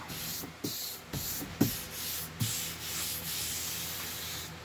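Sanding a wooden table stripped of its old finish, rhythmic back-and-forth scratchy strokes with a few sharper knocks, close and moderately loud, no voices.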